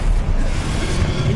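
A short, dense roaring blast of the Confringo fire spell in Hogwarts Legacy, a loud continuous rush of flame and wind with no break.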